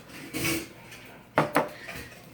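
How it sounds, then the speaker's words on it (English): Dogs eat dinner from bowls in the background, giving a few faint clinks and two sharper knocks against the dishes, with no talking. "that's my dogs eating their dinner."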